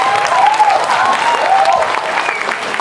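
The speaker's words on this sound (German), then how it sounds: "Also ein Applaus für Trisha" Audience applause for a young girl contestant at a children's talent competition, a steady burst of clapping from a crowd that holds for a few seconds and slowly thins toward the end.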